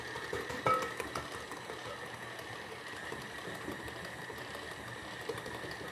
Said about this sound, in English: I'm going to knead the dough for 2 more minutes